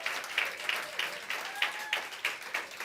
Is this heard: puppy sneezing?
no